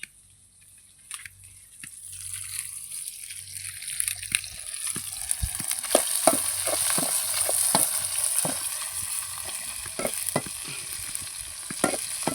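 Food stirred in a frying pan, a sizzle that swells from near quiet to a steady hiss, with repeated scraping and knocking of a spoon against the pan.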